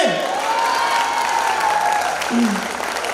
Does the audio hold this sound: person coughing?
no